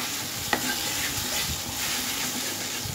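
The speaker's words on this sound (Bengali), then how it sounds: "1/2 টেবিল স্পুন জিরে গুঁড়ো, 1/2 টেবিল স্পুন ধনে গুঁড়ো আর সামান্য কাশ্মীরি লঙ্কার গুঁড়ো দিয়ে আমি আবার 1 মিনিট ফ্রাই করে নেব" Cumin, coriander and Kashmiri chilli powder frying in a pan, a dense even hiss of sizzling oil with a single sharp tap of the stirring spoon early on, close and steady with no talking.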